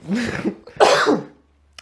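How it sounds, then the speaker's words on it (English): A couple of harsh, close coughs in quick succession, followed by silence. "You're making me cough."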